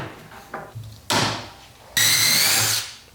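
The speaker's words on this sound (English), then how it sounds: "More pocket holes for good measure. Again, directly screwed right into the cleat." A power drill drives pocket hole screws into a wooden cleat while a garage cabinet is built. Two loud, close whirring bursts come after some lighter handling knocks, the second burst longer than the first.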